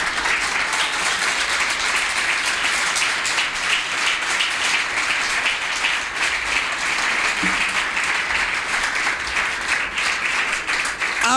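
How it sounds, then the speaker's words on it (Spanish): A church congregation claps for the Lord during a sermon, a steady, full round of applause that holds evenly for several seconds without pause. "Dale un aplauso al Señor."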